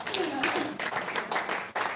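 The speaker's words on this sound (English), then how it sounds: "A round of applause, please" Brief bursts of clapping from an audience at a trauma care counselling talk, moderately loud with uneven rhythm and a short gap near the end.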